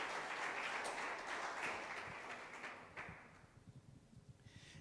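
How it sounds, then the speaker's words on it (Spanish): A church congregation at a Spanish-language service claps together in a soft, distant burst of applause that thins out and fades over about three seconds, leaving a quiet room with a few faint knocks. "Dele una ofrenda de palmas al Señor"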